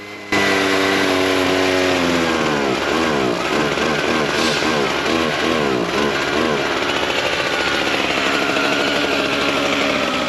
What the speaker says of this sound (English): I ran and picked up another one of our hedge trimmers. This is the Husqvarna